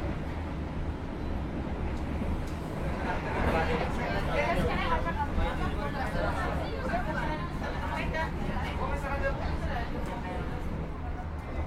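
Crowd chatter from a school group aboard the Argo Lawu train, a dense babble of many voices over a low steady rumble of the moving carriage, continuous and mid-distance.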